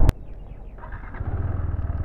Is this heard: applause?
no